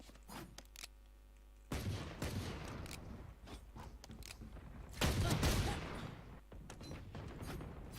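Shotgun blasts and gunfire in a video game, loud, dense bursts around a steady background hum, with one heavy, close blast standing out near the middle.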